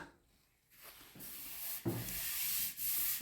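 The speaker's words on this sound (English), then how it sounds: "So that's stripping the paint off really well and it's not doing any damage to the tank." A motorcycle fuel tank is rubbed by hand to strip its paint, giving steady close scraping and abrasive rasping strokes that build after a quiet start, with short pauses between passes.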